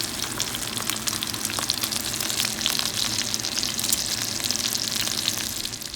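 Steady, crackling sizzle of a pork cutlet frying in hot oil, continuous and fairly loud, with dense popping spatter and no voices.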